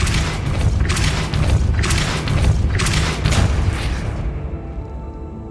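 A spell effect in a Harry Potter-style video game, heard as a series of deep booming blasts with swelling whooshes, loud and steady across the clip, then trailing off.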